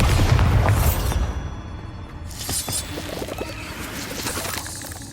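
Bombarda blasting spell in a Harry Potter video game: a loud, deep explosive boom that opens the clip, followed by rumbling debris and scattered crackles that fade under lingering game ambience.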